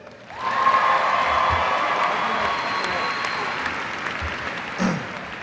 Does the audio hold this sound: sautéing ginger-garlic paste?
no